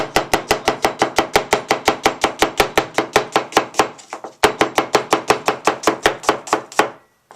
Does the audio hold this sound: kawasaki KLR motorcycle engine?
no